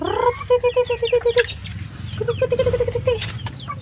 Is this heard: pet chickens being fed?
yes